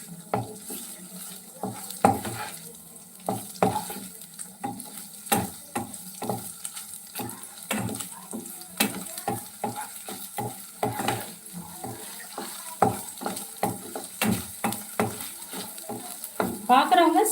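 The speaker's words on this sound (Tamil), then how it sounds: "பாருங்கள் சூப்பராக ஃப்ரை ஆகிட்டுருக்கு." Kadai paneer pulao fries in a pan while a spatula stirs it, producing a steady sizzle broken by repeated sharp scrapes and clinks against the metal, close up and rhythmic.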